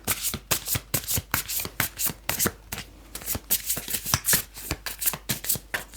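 Tarot cards being shuffled by hand in quick, rhythmic riffles and taps, close and crisp, repeating steadily with no voices.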